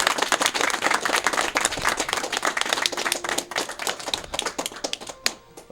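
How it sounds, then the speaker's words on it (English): Dense applause from a crowd at a speedrunning event, many hands clapping steadily, with sharper individual claps standing out as it thins toward the end. "give it an applause for that"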